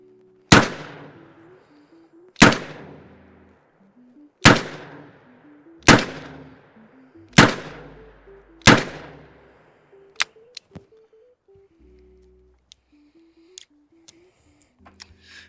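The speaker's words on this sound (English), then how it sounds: "let's take some shots, see how it runs" Six sharp reports from a Taurus TX22 .22 pistol ring out at steady intervals of about one and a half seconds, each decaying quickly, followed by a few faint clicks and handling taps.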